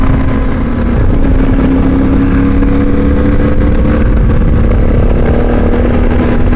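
Loud engine of a brand-new CFmoto 450MT motorcycle running close up, a steady throaty roar with a slight rise in pitch as it revs, continuous throughout.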